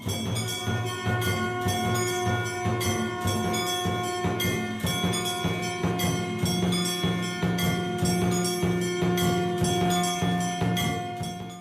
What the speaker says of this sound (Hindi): ये शंखनाद ही है।